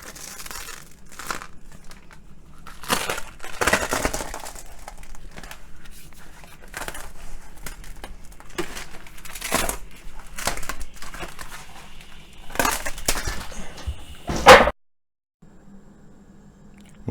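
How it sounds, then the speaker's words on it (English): Dried spilled paint is peeled off a workshop floor in a series of close crinkling, tearing rips, some loud bursts separated by quieter gaps, then a sudden silence near the end. "Most of that cleaned right up just by peeling it off, as you saw"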